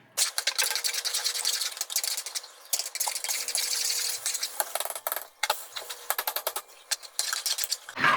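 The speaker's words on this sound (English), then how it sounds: "we're going to start adding in our peanut butter. Go ahead and get that all scraped in there." Peanut butter is scraped into a melted chocolate fudge mixture, close, uneven bursts of scraping and stirring that come in quick rhythmic strokes with short pauses between.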